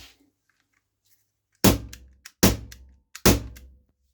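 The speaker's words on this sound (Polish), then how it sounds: "Dociskamy i znowu kilka strzałów" A rubber-ball HDR revolver fires several close, sharp test shots in quick succession, each a hard thump with a short decay, with faint clicks between them.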